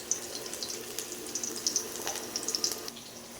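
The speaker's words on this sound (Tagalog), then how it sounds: "Hugas na rin tayo. Mga pinggan." Tap water runs faintly while dishes are washed, a soft steady trickle with light splashes and small clinks of plates throughout.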